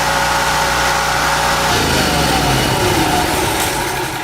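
A small gasoline generator engine, salvaged after hurricane flooding, runs steadily up close with a loud, buzzing drone that shifts in tone partway through, and no voices are heard.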